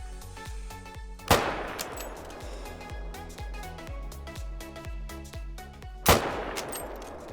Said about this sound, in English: We're going to use the Mosin Nagant and go for a spinal cord heart shot on this puma.